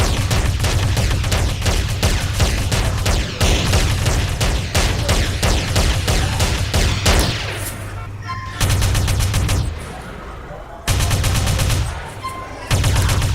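Rapid gunfire and explosions from the video game GTA roar almost nonstop in loud, dense bursts, easing briefly twice before the shooting surges back.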